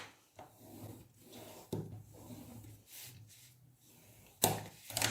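Paper being burnished into place on a mini album page, with repeated close dry rubbing strokes and a few sharper taps and scrapes in an irregular rhythm, no talking.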